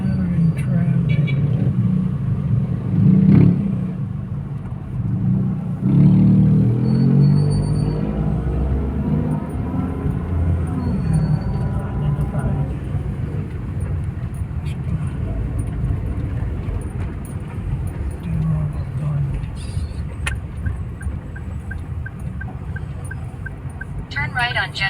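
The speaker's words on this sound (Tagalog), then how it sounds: "Saturday traffic." Saturday road traffic heard from inside a car with the air conditioning running: a low, steady rumble of engines and road noise, with people talking inside the car over it.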